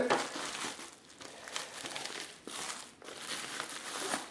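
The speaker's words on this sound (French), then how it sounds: "Donc on va déballer les plastiques." Plastic wrapping comes off the parts of a newly unboxed Sony Alpha 77 camera kit. The crinkling and rustling is close and continuous, rising and falling in several bursts, with no voice.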